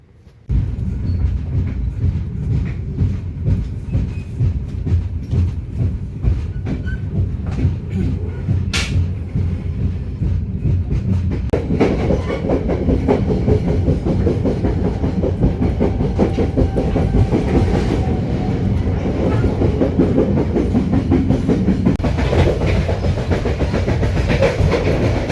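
The KA Gumarang train rolls into Jatinegara station, heard from on board as a loud, continuous rumble with rhythmic wheel clatter on the rails and occasional metallic squeals and knocks.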